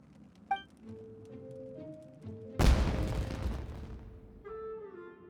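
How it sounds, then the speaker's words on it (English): A fireworks explosion in the video game Genshin Impact bursts once, loud and sudden, partway through, between stretches of soft tonal game music. "Was that an explosion? It sounded like fireworks."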